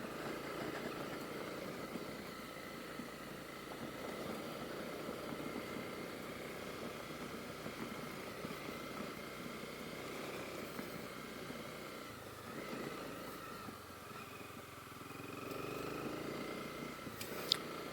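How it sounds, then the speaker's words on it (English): A single-cylinder Honda CB250R motorcycle rolls slowly along a gravel forest road, its engine a faint, steady purr under a continuous wash of tire and wind noise, with slight swells and dips. "It's really nice since the CB250R is a single cylinder."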